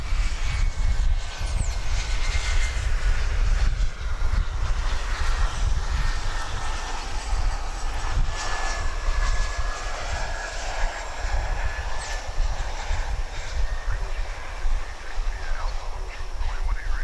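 An airliner arriving from Roswell passes over Dallas Fort Worth airport at daybreak, a low rumbling roar with a faint high whine, steady and moderately near, with occasional talk beneath.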